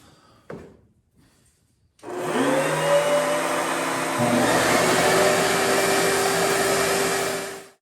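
A power saw blade makes a final pass through wooden cabinet stiles during a kitchen cabinet makeover, a loud sustained whine and roar starting after a brief knock and running steadily to the end with no talk.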